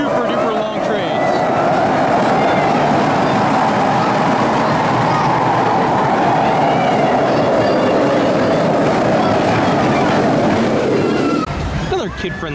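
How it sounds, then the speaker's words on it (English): Long family kiddie coaster train, the SOS Numeros at Parc Asterix, rumbling steadily along its track for about eleven seconds under someone talking, then cutting off sharply near the end. "Here's the park's family kiddie coaster, the SOS Numeros."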